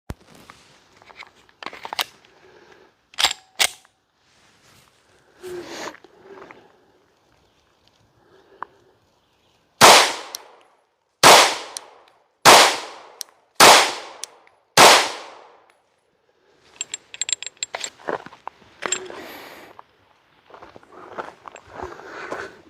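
Five loud, sharp rifle shots from a rifle fitted with a Gideon Optics Omega sight, evenly spaced about a second and a half apart at an outdoor range, with quieter clanks and rustling handling sounds before and after.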